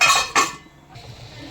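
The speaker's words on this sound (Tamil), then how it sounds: "கொழும்பு மூடி போட்டுடலாம்." A metal lid set down on a pot of simmering beef curry with potatoes, two quick close clanks in succession followed by a soft ringing fade.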